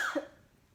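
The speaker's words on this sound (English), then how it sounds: "I don't know why I'm coughing" A single short cough, close and fairly quiet, fading quickly into silence.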